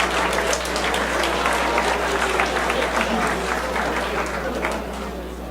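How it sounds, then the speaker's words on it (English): A large audience at a student comedy competition gives a sustained round of applause, dense overlapping claps with occasional sharp individual hits, tapering slightly at the end over a low steady hum. "let's give another round of applause for our 5 judges"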